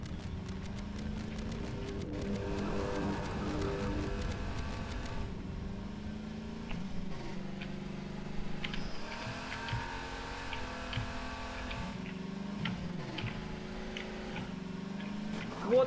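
A vehicle engine drones and revs in Garry's Mod, a steady buzzing motor with shifting pitch as it speeds up and slows, heard clearly with little talk over it.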